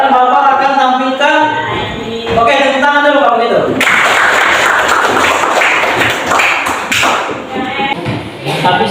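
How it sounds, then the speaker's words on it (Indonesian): A classroom of students breaks into loud, continuous clapping and thumping that fills the room after a teacher speaks briefly, the applause steady and close for several seconds. "Oke, tepuk tangan dulu kalau gitu."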